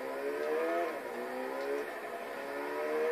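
A motorbike engine from the driving game DRIV3R drones continuously with a tonal whine, its pitch wavering slightly as it revs up and eases off, steady and fairly loud with no talk.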